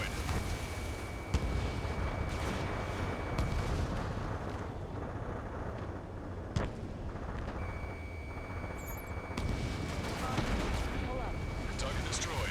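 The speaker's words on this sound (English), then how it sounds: "Gunfire and the roar of jets echoing through the streets." Ace Combat 7 combat over a city bay, with a constant roar of jet engines and repeated heavy booms of gunfire and explosions, some sharp and close, under muffled radio chatter.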